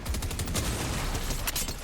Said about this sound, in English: Don't know why he's shooting the shark instead of me.